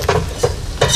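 Oil being heated in a pan with ground leaves or flowers, giving a soft frying sizzle broken by three brief stirring scrapes, close and moderately loud.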